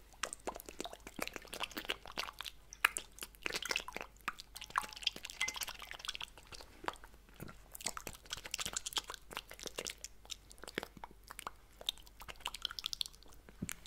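Close-miked ASMR tongue fluttering done with water makes rapid, irregular wet clicks and smacks, fairly soft and very near, with no talking.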